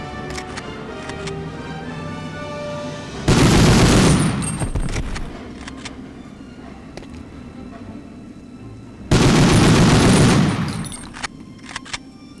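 Two loud bursts of rapid automatic gunfire in Medal of Honor, each lasting about a second or two, separated by quieter stretches of game ambience.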